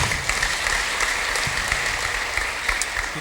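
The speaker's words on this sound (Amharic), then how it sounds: "አጨብጭቡላት።" A church congregation claps steadily and densely throughout, sustained applause filling the space with no voices rising above it.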